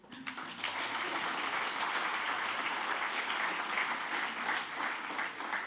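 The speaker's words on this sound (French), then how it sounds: "je voudrais qu'on s'applaudisse." A conference audience bursts into applause, the clapping swelling quickly after a brief quiet start and then holding as a steady, fairly distant patter of many hands.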